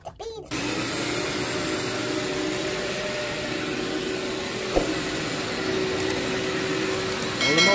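A Crunch vacuum cleaner switches on and drones steadily and loudly while cleaning old red, white and blue carpet with heavy pet stains, with one sharp knock partway through.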